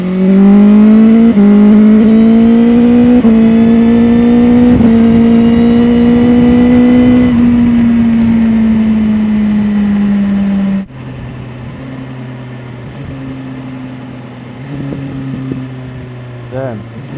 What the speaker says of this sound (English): The bike also sounds really mechanical, especially when you put it on cruise control.